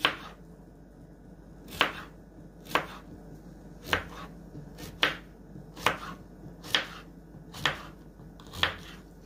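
A knife cuts through vegetables on a cutting board with eight or nine crisp, evenly spaced chops about once a second, close and clear over a quiet background.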